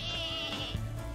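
Single drawn-out sheep bleat in the video game Lumberhill, wavering and fairly loud over steady game music.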